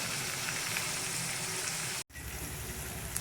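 Onions and tomatoes fry in oil over a wood-fired stove, giving a steady close sizzle with a brief dropout partway through.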